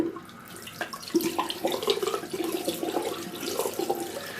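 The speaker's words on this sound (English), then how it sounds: "now we're going to give it a rinse under the water." A Dyson V6 or V8 cordless vacuum filter rinsed under a running tap, water splashing steadily and unevenly over it at close range, alone with no voices.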